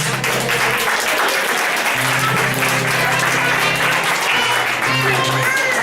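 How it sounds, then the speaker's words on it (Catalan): An audience at a school children's concert claps loudly and steadily after a song, a full burst of applause with faint murmuring voices mixed in underneath. "Un aplaudiment"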